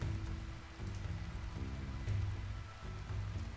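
Steady rain falls in the Rimworld video game, a continuous hiss of drops on surfaces with faint low rumbling beneath it and no speech.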